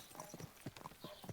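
A horse's hooves clip-clop at a walking pace in the medieval video game Kingdom Come: Deliverance 2, a steady, quiet rhythm of soft thuds.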